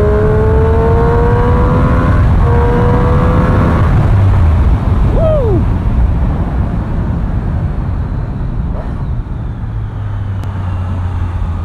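Loud engine of a 2017 Triumph Street Triple 765 RS motorcycle roaring and shifting through gears over heavy wind rush, continuous and close throughout.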